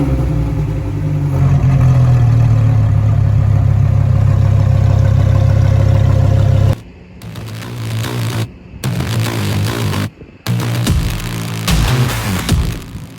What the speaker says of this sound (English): Let's fire up this engine and hear what this thing sounds like.